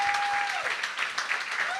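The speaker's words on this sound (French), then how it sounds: "il prend ses applaudissements, hein, lui" A studio audience applauds steadily as guests arrive on stage at a French-language talk show, dense, sustained clapping with a faint tone underneath.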